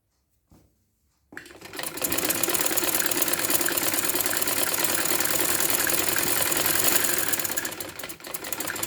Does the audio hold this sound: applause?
no